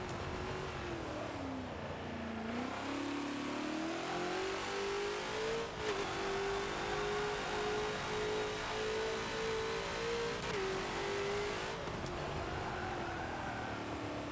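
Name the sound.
Ford GT40 engine downshifting at Sebring in Forza video game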